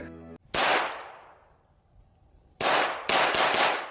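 Sharp, loud pistol shots fired at armor in a test, one isolated crack with a ringing decay followed by three quick reports close together.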